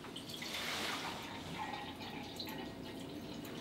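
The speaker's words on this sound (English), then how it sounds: "see how long it takes to fill this same 14-ounce glass" Water from an Express Water reverse osmosis faucet runs into a 14-ounce glass through quarter-inch tubing, a steady, soft trickling stream that holds even throughout at low volume.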